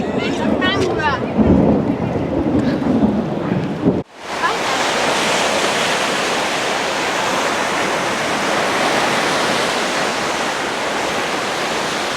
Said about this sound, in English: And no, you're not mistaken. That's thunder. It's chucking it down.